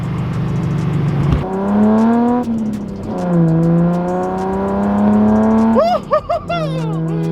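A Datsun's inline-six engine revs hard and climbs through first gear, drops briefly at a shift, then winds up again, loud and close; a voice breaks in near the end.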